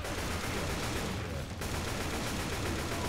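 Rapid, continuous gunfire in Left 4 Dead 2, a dense stream of automatic shots, loud and steady with a brief gap midway.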